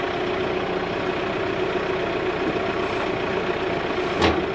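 A brand-new Kioti farm tractor idles steadily nearby, a constant low engine rumble with a brief click near the end and no voices.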